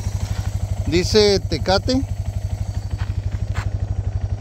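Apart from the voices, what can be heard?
motorcycle engine idling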